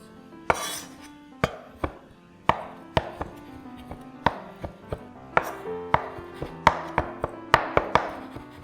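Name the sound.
chopping black beans with a knife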